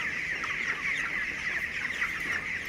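Chickens and chicks clucking and cheeping on a poultry farm, a steady high chorus from many birds that goes on the whole time.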